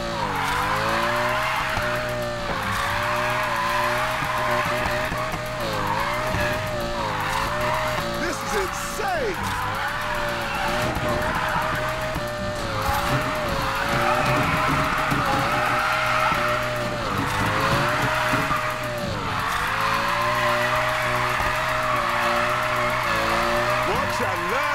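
A car drifting in Need for Speed Payback, its engine revving loudly and wavering in pitch alongside continuous squealing tires, sustained for the whole stretch with shifting throttle and occasional shouted voices.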